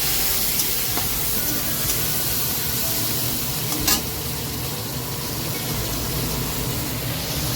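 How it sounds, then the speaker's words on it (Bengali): Prawns seasoned with salt and turmeric fry in oil in a wok, giving a steady, dense, close sizzle that runs unbroken, with a brief scrape near the middle. "নুন হলুদ দিয়ে চিংড়ি মাছগুলো ভেজে নিচ্ছি"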